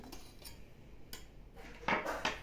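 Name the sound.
knife run around the edge of a baked cake in its tin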